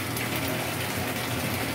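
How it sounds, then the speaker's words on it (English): Hot water gushing from a tap into a bathtub, a loud, steady, unbroken rush, close by and with no voices. "I'm going to add some more water and see if it does something"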